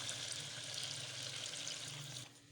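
Water pours steadily into a pot of chana dal kofta curry, a continuous close splashing and sizzling wash that eases off near the end.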